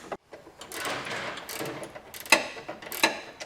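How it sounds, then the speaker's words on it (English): A 3/4 inch ratcheting wrench snugs down base rail hardware for a B and W custom installation kit, giving close, uneven bursts of clicking ratchet strokes with two sharper metallic clacks near the end. "I'm going to go back with a 3/4 inch ratcheting wrench and just kind of snug everything down."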